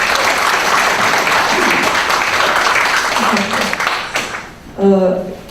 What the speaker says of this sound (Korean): 다시 한번 우리들의 사랑하는 이름 추미애원을 뜨거운 박수로 맞아주시기 바라겠습니다.